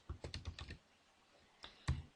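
Quiet computer keyboard keys click in a quick burst of about six taps, then pause, followed by two more distinct, slightly louder presses.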